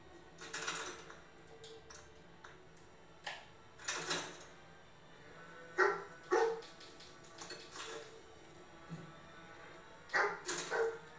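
Dogmeat, the dog companion in the video game Fallout 4, barks in short scattered bursts of one or two barks over a quiet background, mixed with faint keyboard clicks and clatter.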